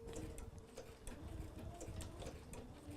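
A sewing machine runs a back stitch on fabric during machine appliqué, a quiet, rapid, regular mechanical ticking with a faint steady whir underneath.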